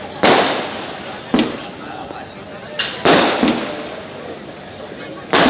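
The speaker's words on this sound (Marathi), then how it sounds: "काय फटाके लावले रे" Firecrackers go off at a birthday celebration in Paldhi, with four or five sharp, loud bangs spaced a second or so apart, each followed by crackling, over a crowd murmur.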